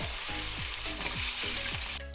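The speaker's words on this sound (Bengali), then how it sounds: "এবার মাছগুলোকে আমি এক এক করে সমস্ত মাছগুলো ভেজে নেবো" Aar fish sizzling as it fries in hot oil in a covered pan, a steady dense crackle with repeated rhythmic clicks and bursts throughout, loud and close with no talking.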